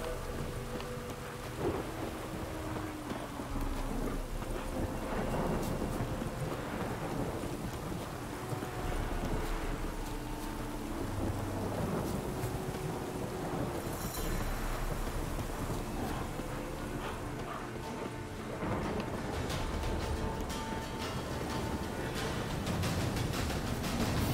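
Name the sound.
thunderstorm with rain and thunder in the video game Witcher 3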